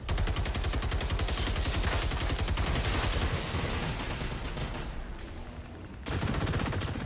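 Rapid bursts of heavy cannon fire from a Reaper robot in the video game Generation Zero, a dense, loud, continuous barrage of repeated blasts with a brief drop near the end before firing resumes.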